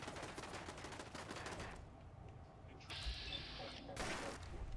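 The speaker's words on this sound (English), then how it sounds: "how is that guy possibly shooting at me?" Rapid video-game gunfire from Fallout 4 with the Sim Settlements 2 mod rattles in a dense, fast burst and then gives way to other clattering game noise. It stays fairly faint, with a voice talking over it.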